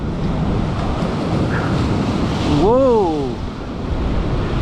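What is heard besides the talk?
stormy sea waves crashing on the shore, Crimea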